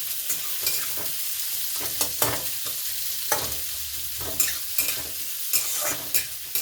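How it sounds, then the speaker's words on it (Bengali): Chopped onions fry in hot oil in a pan, giving a continuous bright sizzle broken by repeated scraping stirs with a spoon, close and clear with no talking. "একটু ভাজবো পেঁয়াজটা, একটু ভেজে নেবো, একটু লাল লাল হলে"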